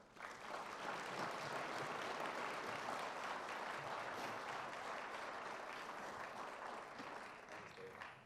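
Sustained audience applause fills a conference opening session hall as a speaker is welcomed, a dense, steady wash of many hands clapping that holds loud throughout and tapers slightly near the end.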